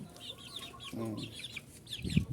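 Chickens cluck and chirp softly nearby in short, overlapping calls, with a brief rustling thump toward the end.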